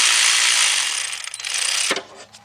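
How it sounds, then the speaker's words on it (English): A cordless ratchet whirs as it spins out bolts on a Chevy Cobalt engine during an oil pan job, a steady close mechanical buzz that stutters briefly before a final clack and stop. "be careful if you're using a cordless ratchet, because those bolts come out"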